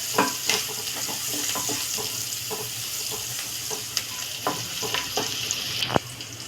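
Onions fry in a pan while being stirred: a continuous sizzle broken by frequent scraping and clinking strokes of the spoon, close and fairly loud, with no voices.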